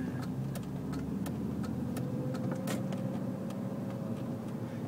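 A BMW E34 535i rolling along slowly, with a steady low engine and road hum inside the cabin and faint regular ticking clicks on top, no talking.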